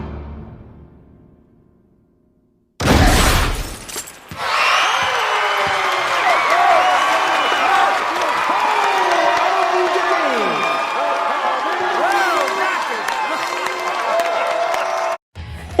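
Crowd at a basketball game erupts in loud, sustained cheering, whooping and applause after a sudden burst, continuing densely for over ten seconds with shouts rising above the roar.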